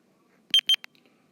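A rechargeable hearing aid gives a short run of electronic beeps: two steady tones close together, then a quicker, fainter third blip, each clean and isolated against near silence.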